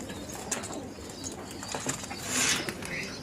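Pigeons on a rooftop coo softly and flap their wings, with a burst of wingbeats swelling midway as birds take flight, fairly close over light background noise.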